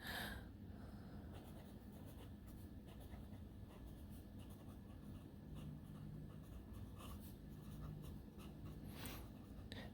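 A Sailor King of Pen fountain pen with a smooth nib moves over paper in a quiet, continuous scratchy whisper of strokes, close and faint with small pauses, no one speaking.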